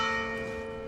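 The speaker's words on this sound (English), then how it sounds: "Hearing their church bells ring for the first time in 284 years." Church bells ring in a film scene, a sustained bright peal with steady overlapping tones that hum on and slowly fade, loud and alone with no talk.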